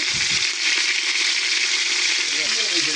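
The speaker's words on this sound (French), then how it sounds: "L'agneau à dorer de chaque côté." Lamb pieces browning in a hot pan give a loud, steady, hissing sizzle that stays close and even throughout, with faint stirring clatter underneath.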